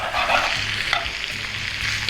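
Chopped onion sautéing with cauliflower florets in butter and olive oil, a steady close sizzle and hiss filling the whole moment, with a few soft stirring scrapes and no voices.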